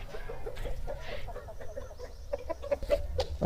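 A rooster offered for sale at a Kadapa farm gives a run of short, close clucks, getting louder toward the end, with no voices.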